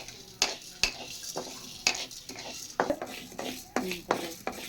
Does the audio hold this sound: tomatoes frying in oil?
yes